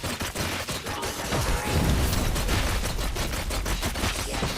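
Gunfire in the video game RoboCop: Rogue City comes as dense, rapid bursts of overlapping shots that hammer close and loud for several seconds, with no voices over them.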